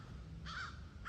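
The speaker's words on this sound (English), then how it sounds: "The the crows are calling at me." Crows sitting in trees give a single hoarse caw at moderate distance, with the start of a second caw cut off at the end. The calls come over a low outdoor rumble.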